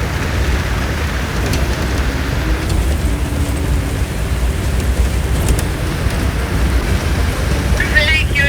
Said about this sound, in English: So it started raining.